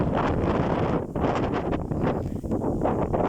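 Roaring storm wind gusting at about 23 metres per second across an open field, buffeting the microphone loudly and continuously with surging, rushing peaks.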